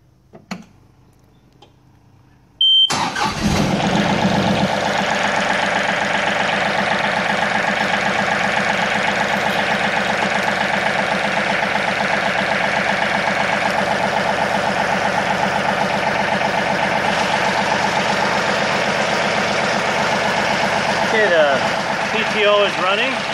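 A 2017 John Deere 2032R compact tractor engine cranks and catches after a few seconds of quiet, then settles into a steady close idle with the PTO running, holding an even drone for the rest.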